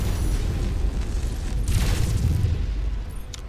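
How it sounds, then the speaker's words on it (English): A heavy explosion in the mech combat game MechWarrior 5 booms out close and loud, a deep rumbling blast with a burst of debris noise that tails off over a few seconds. "Way too close to that explosion."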